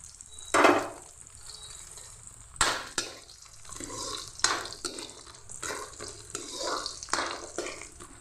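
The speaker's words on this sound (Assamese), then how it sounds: "সেয়া দাইলৰ বড়ি অলপ ভাজি ল'লোঁ।" Dal bori, lentil dumplings, fry in mustard oil in a karahi on a home stove, with a soft sizzle under intermittent stirring, scraping and clinking of a spoon against the pan, close by and with no talking.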